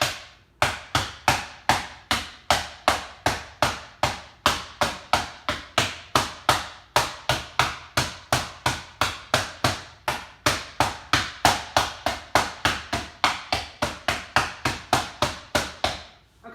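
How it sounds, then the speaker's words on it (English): Steady, rapid hammer strikes crush hard peppermint candies on a cutting board, dozens of sharp blows in an even rhythm, close and loud throughout. "I'm going to hit the peppermints with a hammer"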